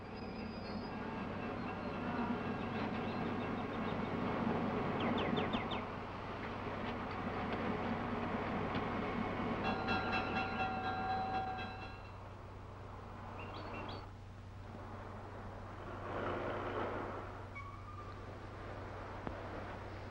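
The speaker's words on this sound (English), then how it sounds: "there's my train" A train sits at a station with a low steady rumble, squealing metallic wheel tones, clanks and hissing bursts, and faint bird chirps in the background.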